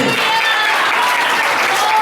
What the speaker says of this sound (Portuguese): Dá uma olhada salva de palmas para Jesus aí.